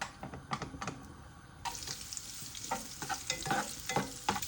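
Pork fat sizzles and crackles in a hot frying pan, with soft scraping and stirring clicks over steady frying hiss.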